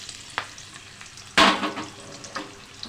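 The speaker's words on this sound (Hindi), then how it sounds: "अब इस टाइम पे हम इसमें सबसे पहले प्याज डाल देंगे।" Onions dropped into hot oil with fried garam masala, producing a sudden loud sizzle that flares and then settles into steady frying, close by with no talk.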